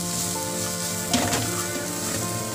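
Masala for South Indian methi pulao sizzles steadily in a hot pan, a constant close frying hiss with a brief stronger crackle partway through.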